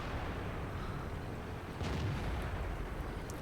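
A tank cannon fires in World of Tanks, a single faint, muffled boom near the middle of a quiet, low rumbling background, with no speech.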